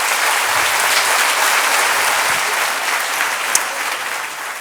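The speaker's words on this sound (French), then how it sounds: "je vous invite à applaudir nos beaux et belles finissants" Parents in a school ceremony hall applaud the graduating students, a steady, loud, dense roll of clapping from a large audience with no talking over it.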